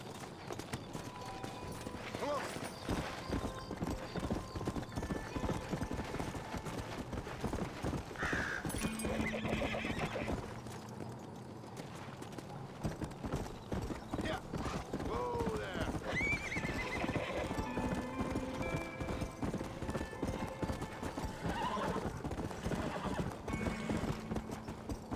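Horse hooves clip-clop at a steady pace in Red Dead Redemption, with whinnies and neighs rising over the continuous trotting rhythm, game music and ambience underneath, and a person talking over it.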